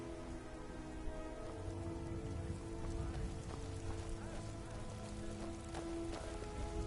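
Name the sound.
rain in Skyrim video game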